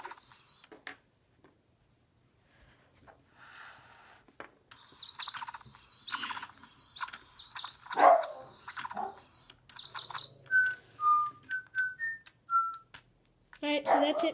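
Digibirds toy bird gives a run of bright electronic chirps and short whistled tweets, repeated in quick bursts after being blown on, with a voice talking intermittently around them.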